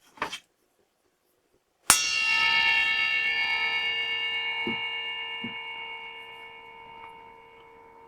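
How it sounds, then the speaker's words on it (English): Metal parts struck in a workshop bell test: a short knock, then after a pause one sharp clang that rings on with a bright, sustained tone, slowly fading over several seconds, with a couple of faint taps beneath. "Let's see how long they ring."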